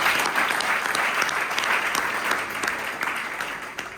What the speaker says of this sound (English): So let's just clap for that if you please.